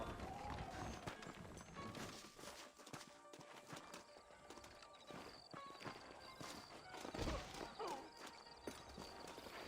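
Rapid hoofbeats of galloping horses in Red Dead Redemption pound over a dense backdrop of wind and outdoor noise, with scattered sharp thumps and a faint whinny.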